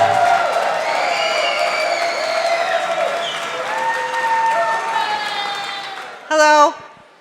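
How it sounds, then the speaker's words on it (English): Wedding guests applaud the bride and groom. Steady crowd clapping runs under voices and cheering, and a loud whoop bursts out near the end. "big round of applause for our bride and groom"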